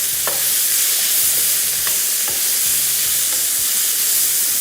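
Chicken topping frying in a pan over high heat, a loud continuous sizzle and hiss with a few faint clinks and stirring scrapes scattered through it.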